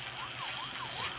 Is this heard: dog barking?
no